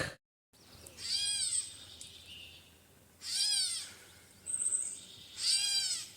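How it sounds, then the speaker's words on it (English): A bird calls in a forest on the Appalachian Trail in four separate bursts of rising and falling whistled notes. Quiet pauses and a low hum lie between them. "This bird is trying to tell me something."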